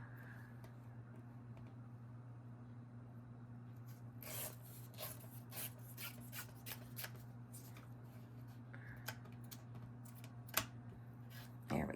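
A book page is trimmed down to size for journal cards, making soft close scraping and slicing strokes in a quick cluster over a steady low hum, followed by a few scattered taps.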